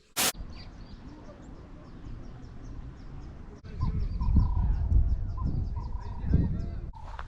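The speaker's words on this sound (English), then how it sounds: "Birds chirping" Coastal birds at Elands Bay call in scattered honks and chirps, mid-distance, over steady wind and surf noise that swells louder partway through.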